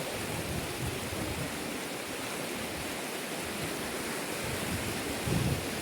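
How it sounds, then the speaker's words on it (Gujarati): River water flowing steadily, a dense, even rushing wash heard close and loud throughout, with no break and no voices. "હે જોવામાં બધા નાય છે અને નદી જોઈ લ્યો ભાઈ એક નંબર નદી"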